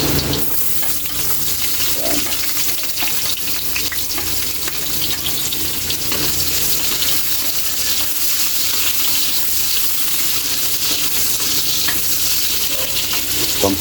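Chopped onions hit hot oil with garlic and tomato in a pan, giving a steady loud sizzle and spatter with faint stirring scrapes, close and continuous for the whole stretch, with no talking over it.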